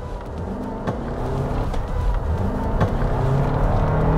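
A Toyota plug-in hybrid with a 2.5L Dynamic Force engine accelerates hard on an open road, a steady, rising engine and road roar heard from inside the cabin with no talking.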